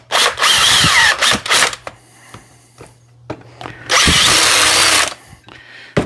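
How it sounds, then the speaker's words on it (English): Power drill driving screws on a Dewalt pole saw during repair, two loud sustained bursts of whirring with short pauses and clicks between, close up with no talking. "then all you have to do is tighten your screws down"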